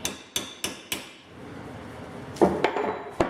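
Hammer blows on the rear control arms of a Jeep WJ: four sharp metallic strikes in steady rhythm, a pause with low shop noise, then a few more scattered clanking hits, close and loud with no talking.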